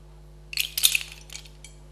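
Red curry paste being stirred in a pan, a utensil clinking and scraping against the metal in a short burst of sharp, bright contacts over a low steady hum.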